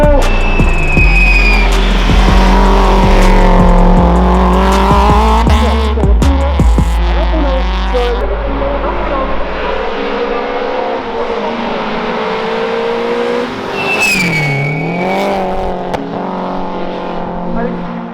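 A race car on a hill climb run at Saint-Pierre-de-Varengeville launches loudly close by, its engine revving hard through several gear changes with a brief tire squeal, then fading into the distance as a voice speaks over it.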